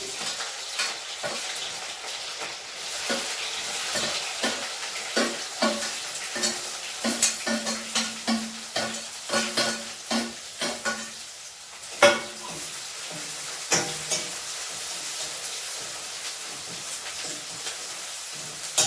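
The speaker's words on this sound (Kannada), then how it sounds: "ಈಗ ಈರುಳ್ಳಿ ಮತ್ತು ಬೆಳ್ಳುಳ್ಳಿ ಹಾಕೊಂಡು ಫ್ರೈ ಮಾಡ್ಕೊತಿದ್ದೀನಿ" Onion and garlic fry in oil in a pan for a tomato gojju. A soft, constant sizzle runs under repeated scraping stir strokes, close by and with no voices.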